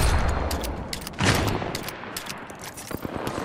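Incoming gunfire in Apex Legends, a loud close volley of shots with a sharp impact burst, followed by scattered rapid reports fading in and out.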